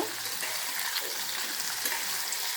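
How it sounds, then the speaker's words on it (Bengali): Marinated paneer pieces frying in hot oil, a continuous bright sizzle with light crackle and occasional spatter, close and steady throughout. "তেলের মধ্যে ভেজে নিচ্ছি।"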